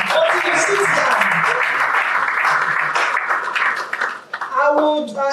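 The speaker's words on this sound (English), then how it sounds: "Please clap for him until he sits down." An audience at a forum on Nigerian labour force statistics applauds a university panelist, a broad sustained wash of clapping with voices talking and calling over it, fading toward the end as speech takes over.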